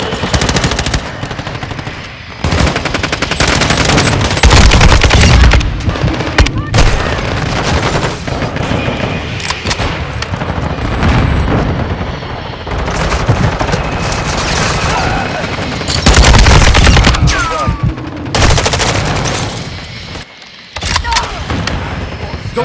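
Loud, sustained machine gun fire and gunshots in Call of Duty: Modern Warfare II, with rapid bursts and dense volleys running almost continuously, broken by brief pauses and punctuated by sharper shots.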